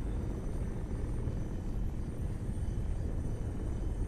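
Helicopter flying in the ARMA 3 military video game, a steady, loud rotor and engine rumble that fills the whole stretch without a break, with no voices over it.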